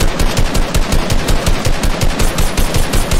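Rapid automatic gunfire in a shooter video game, a loud continuous stream of shots without pause.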